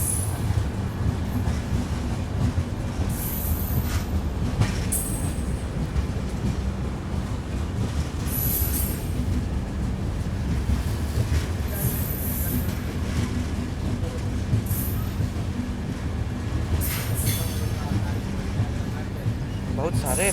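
Steady loud rumble of the Yesvantpur–Gorakhpur Express running on rails toward Ballarshah, heard from on board, with continuous wheel noise, faint high squeals and occasional clicks throughout.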